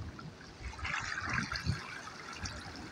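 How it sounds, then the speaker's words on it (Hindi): Water poured from a bucket in the video game Lokicraft, a soft splashing, gurgling flow lasting a couple of seconds at moderate level with no talk. "इधर पानी की बकेट नहीं डाली"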